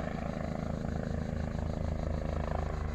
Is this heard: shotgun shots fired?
no